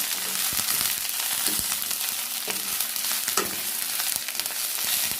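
Salted vegetable thoran sizzles steadily in a hot pan as a spoon stirs it, with scraping knocks recurring through the continuous frying hiss; no one speaks.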